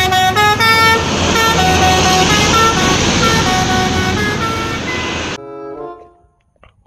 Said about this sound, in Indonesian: Kali ini ada bus Putra KJU teman-teman.